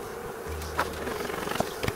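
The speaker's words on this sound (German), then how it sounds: "Die Kiste ist voller Bienen." Honeybees buzzing in an open hive box during a spring colony check, a steady close hum with a few sharper passes and small knocks.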